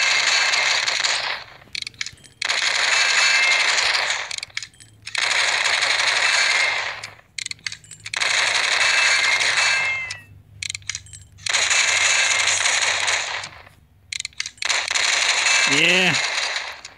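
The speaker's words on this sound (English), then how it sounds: "I'm going to shoot the wood first" Rapid bursts of gunfire from the block-shooting video game GunCrafter, fired at wood and stone blocks, come in repeated sharp volleys separated by short pauses, with a brief rising tone near the end.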